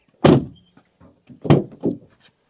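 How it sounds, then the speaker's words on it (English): A rear door on a 2025 Cummins truck shutting with a solid thunk, then a second closing thud followed by a softer knock, close up and distinct. "no issues with shutting the door on the rear either"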